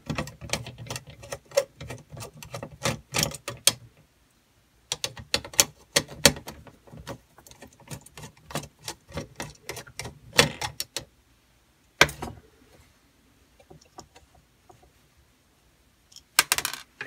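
Two small hex head screws come out of an assembly on a 1951 Zenith 10H20 radio, heard as close bursts of rapid ticking and ratcheting clicks separated by short silent pauses, with no talking.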